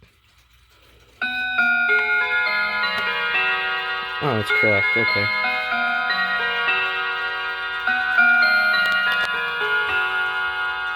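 An old mechanical chiming clock with a glass front ticks steadily while sustained bell chimes ring out and overlap. Someone speaks briefly over it.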